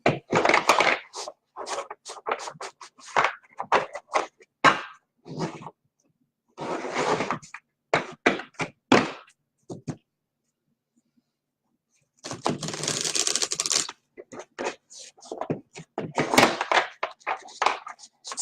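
A deck of cards being shuffled during a card-reading session, heard as bursts of papery riffling and soft slaps, with a longer dense riffle partway through and quiet gaps between.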